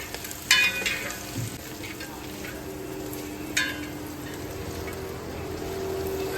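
Green peas, beans, cauliflower and potatoes fry with garlic in a pan, giving a steady close sizzle with a couple of sharp stirring clatters, no talk.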